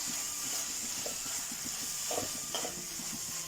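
Chili powder sizzling and sautéing in a pan for a spicy prawn and mango curry, a steady hiss with occasional soft stirring scrapes, close and moderately loud.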